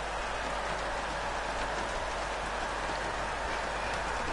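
Rain during a GP2 race in a racing video game, a continuous dense hiss of falling water at an even level with a steady low rumble underneath, no voices.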